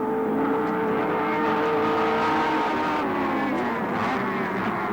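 A Mazda touring car with a five-speed gearbox races close behind a Holden Commodore with a four-speed at Oran Park, 1983. Loud, continuous engine roar with shifting revs and overlapping engine notes, close and unbroken throughout.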